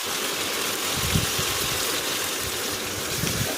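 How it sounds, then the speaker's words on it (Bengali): Water poured into a pan of frying beef liver gives a steady, loud rushing splash and sizzle that runs unbroken throughout, with no talk. "সিদ্ধ করার জন্য জল দিয়ে দিলাম।"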